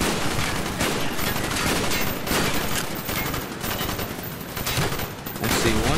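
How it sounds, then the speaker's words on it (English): Sustained gunfire in Call of Duty Black Ops during a boat battle, a loud continuous fusillade of rapid shots and bursts with no break for its whole length. "I'm just gonna fire down there, why not?"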